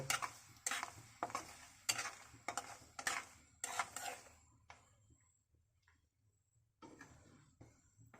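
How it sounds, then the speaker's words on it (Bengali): A spoon scrapes and knocks in a pan in quick, regular strokes while whole five-spice, bay leaves and cinnamon are stirred for a sweet and spicy olive pickle, then the stirring fades to quiet clinks near the end. "গোটা পাঁচফোড়ন তেজপাতা আর দারচিনি এগুলোকে কয়েক সেকেন্ড নেড়ে নিব"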